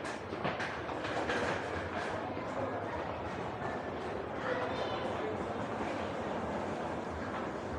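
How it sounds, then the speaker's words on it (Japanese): A Tokyo Metro Chiyoda Line subway train arriving at Machiya Station rumbles and clatters steadily on the rails, loud and close, with no break in the noise throughout. "まもなく8番線に各駅停車代々木上原行きが参ります。"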